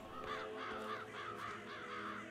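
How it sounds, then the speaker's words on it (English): Crows cawing in the video game Hitman 3, a run of about six harsh caws in steady rhythm, moderately loud over a faint background. "Crows around seems to be fitting."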